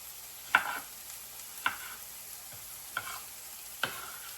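Large garden onions and garlic cooking together in a pan, with a soft steady sizzle and four distinct stirring scrapes spaced about a second apart, fairly quiet and close.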